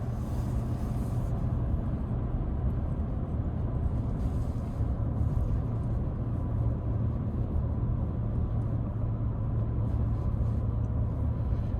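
A Ford F-150 XLT with a 5.0 V8 driving along curving roads, heard from inside the cab as a steady low rumble of engine and road noise with faint hiss.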